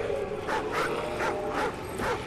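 Wolves in the Call of Duty: Ghosts video game, giving a run of five short, fairly loud yelping growls and snarls at an even pace, with game ambience underneath and no talk.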